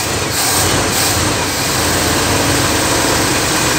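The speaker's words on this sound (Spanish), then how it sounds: "Aquí está frío, por eso que lo estoy acelerando un poco para que agarre, porque tiene 4 días que no lo enciendo." A Chevrolet 350 V8 engine, started cold after sitting for four days, is revved to keep it running, giving a loud, steady, dense mechanical roar close to the microphone.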